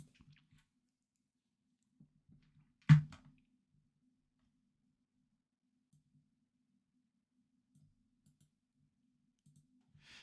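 A single sharp mouse click on a Windows PC, confirming a prompt, stands alone in an otherwise quiet room with only faint low rustles around it.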